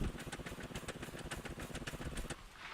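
In the video game Scrap Mechanic, a motorcycle engine chugs in quick, even, clattering pulses, fairly faint, then eases off near the end.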